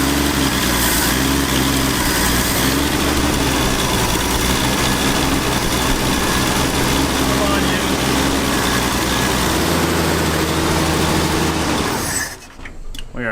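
Engine of a Ford Durango, sitting unused for nine years, cranking steadily and loud and close for about twelve seconds, with a rough churning drone that cuts off abruptly near the end.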